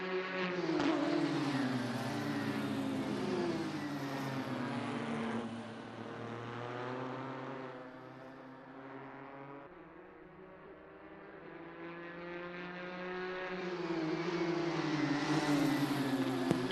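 GT4 Alfa Romeo Giulia race cars in a sim racing league drone steadily at close range, their engine pitch climbing and dropping through gear changes, with no talk.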